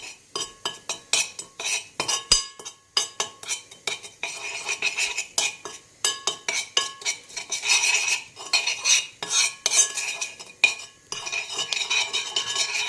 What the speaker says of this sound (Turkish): Döktükten sonra baharatlarımızı iyice mix ediyoruz, karıştırıyoruz.